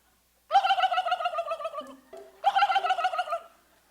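A turkey gobbles twice, rapid warbling bursts separated by a short pause, loud and close with nothing else around.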